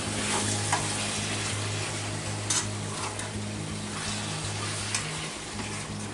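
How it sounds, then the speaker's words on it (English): Hamburger meat and kidney beans for chili sizzle and fry in a pan while a utensil stirs them, a steady loud close crackle with occasional scrapes and clinks, and no voices. "you want to keep stirring this around, getting this evenly cooked"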